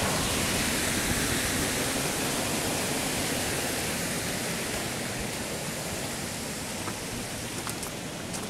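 Continuous loud roar of a waterfall along Ireland's Ring of Kerry, heard up close as an unbroken hiss and rumble of cascading water with a constant level.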